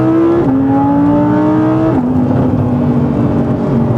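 An Audi R8 engine blips loudly on a downshift, its revs jumping and stepping down in pitch twice in quick succession, close and sustained, with no voices over it.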